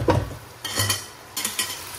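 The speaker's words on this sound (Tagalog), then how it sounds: "Lutuin natin ng mabuti ang kamatis guys at sibuyas, bawang." Tomatoes, onions and garlic cooking in a pan, with several spatula scraping and stirring strokes over a low, steady sizzle. No one speaks.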